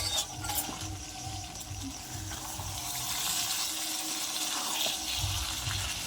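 A little water is poured into vegetarian potato curry (aloo dum) in a cooking pot, giving a steady splashing, hissing wash that runs throughout, close and moderately loud.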